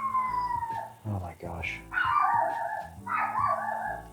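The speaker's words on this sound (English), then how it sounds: "That is my dog barking in the background" A dog barks and howls in the background, repeated yelping howls in bursts behind a person's brief speech.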